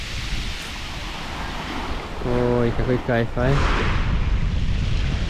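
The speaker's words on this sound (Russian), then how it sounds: "Привет, привет, море." Mediterranean sea waves and wind on an Antalya beach, a continuous roar of surf with heavy wind rumble against the microphone, close and loud, while a person speaks briefly in the middle.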